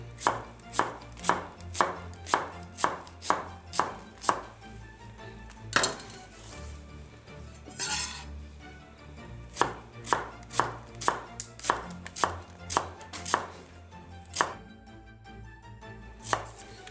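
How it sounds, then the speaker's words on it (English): A knife slices through an onion on a cutting board in steady, evenly spaced chops, each a sharp close thud with a clear gap between strokes and a brief pause partway through. "now what we're gonna do is we're gonna slice the onion"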